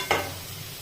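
Sliced okra (bhindi) sautéing in a hot pan: one quick stirring scrape, then a soft, steady sizzle for under a second, close and with no voices.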